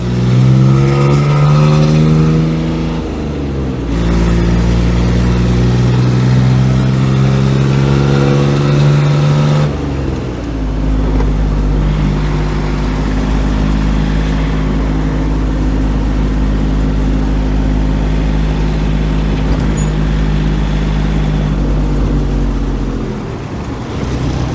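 Diesel-swapped Geo Tracker engine held at wide open throttle, a loud, steady mechanical drone with shifting low harmonics like a tractor, rising and settling in pitch through the run with no talking.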